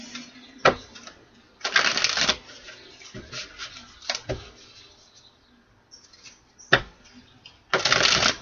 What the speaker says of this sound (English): One more shuffle for my flower.